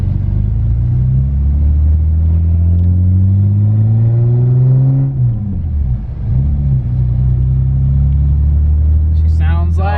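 Toyota Supra with a modified exhaust revving hard, a loud close rumble that climbs in pitch for several seconds, drops off, then settles into a heavy idle with a brief second blip.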